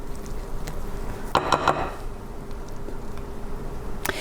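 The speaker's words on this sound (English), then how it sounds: "And I'm going to bring my pan in." A cake pan is brought in and set down on a counter, giving a brief cluster of clattering metallic knocks in the middle, with a faint tap near the end and quiet room tone otherwise.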